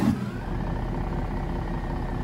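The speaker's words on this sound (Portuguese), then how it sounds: "Ó o som do caminhão." An International Transtar 4070A truck engine idles in Euro Truck Simulator 2 with a low, even rumble and a faint whine, close and continuous.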